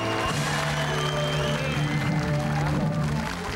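A studio audience applauds with dense, continuous clapping at steady volume, while music or voices run underneath throughout.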